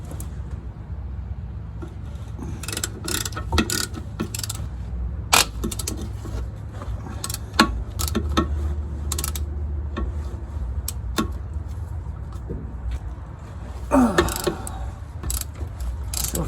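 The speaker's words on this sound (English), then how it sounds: "Just taking out the pinion bolt so I can drop the drive shaft." Ratchet clicking in bursts as the pinion bolt comes out of the rear axle of a Jeep Cherokee, freeing the drive shaft in a garage. The clicks are close and repeated, with occasional metallic knocks and no talking.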